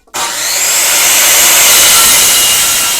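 A power saw cuts through a wooden shelf board to 32 inches, a loud, close, continuous buzzing rasp that starts abruptly and holds steady to the end.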